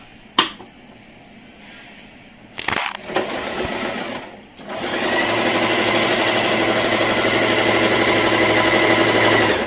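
An Usha Janome Allure Dlx sewing machine running a straight stitch, starting with a few clicks and knocks, then settling into a loud, steady, continuous mechanical whirr that holds to the end.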